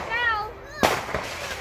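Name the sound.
fireworks exploding on the 4th of July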